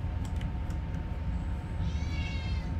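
A cat meows once, a short, clear, close call rising over a steady low background hum, with a few faint clicks before it.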